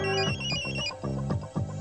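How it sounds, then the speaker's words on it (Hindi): A phone ringtone plays, a bright melodic electronic tune with sustained tones and rhythmic pulses, steady and close for a little under two seconds. "फोन।"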